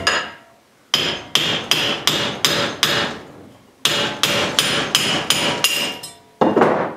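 Steel hammer blows strike a wedge splitting a steel blank clamped in a vise while making an ulu knife: two runs of five or six sharp, loud, ringing hits with short decays, then a final blow.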